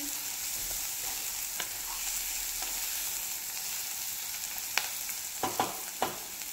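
Sliced onions and dried bombil fish frying together in a pan, giving a continuous close sizzle with a few sharp clicks of a spoon stirring and scraping near the end.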